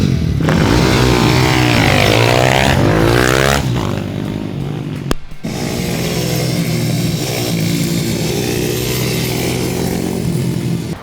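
A racing motorcycle revs hard through the gears on a track, a loud close engine whine rising and falling, then a brief cut and a more distant, steady engine drone as it continues around.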